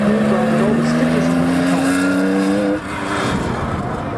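A car on a timed autocross lap holds a loud engine note that rises steadily in pitch as it accelerates, then drops sharply on a shift or lift and carries on a little lower.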